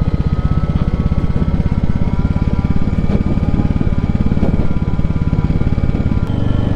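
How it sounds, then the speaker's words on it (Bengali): A motorcycle coasting down a steep mountain road under engine braking with light brake use, its engine a steady, loud, rumbling drone that continues throughout with no one speaking. "পুরো ইঞ্জিন ব্রেকিং আর হালকা ব্রেক মারছে।"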